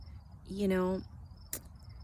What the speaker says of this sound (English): I think I can hear crickets right now.